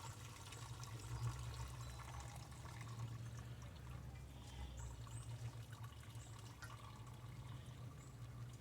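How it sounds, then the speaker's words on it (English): Herbal foot soak liquid is poured steadily through a strainer, a continuous soft close trickle and splash with no talking, fairly quiet throughout. "You want to be careful how you pour it in, because you don't want to lose none of it"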